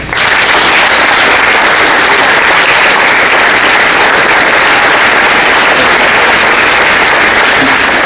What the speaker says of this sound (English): If we can give those gentlemen a round of applause